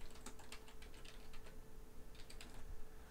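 Quick, light keystrokes clatter on a computer keyboard as arbitrary text is entered, in two short bursts with a brief pause between them, close and quiet.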